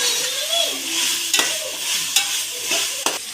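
Masala for pulao frying in a pan, a loud continuous sizzle with three or four scraping strokes of a spoon stirring it, plus a faint whistling tone drifting underneath.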